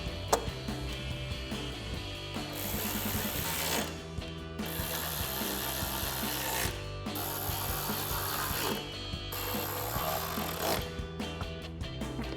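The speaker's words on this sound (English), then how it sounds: "Grab our ratchet extension and socket and tighten those down." A ratchet with extension and socket clicks in rapid bursts while tightening 13mm bolts on a 2021-2023 Ford F-150 fog light install, with brief pauses between strokes, close and clear with no talking.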